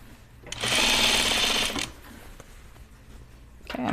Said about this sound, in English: I'm hemming the sleeve. Here's my top stitch.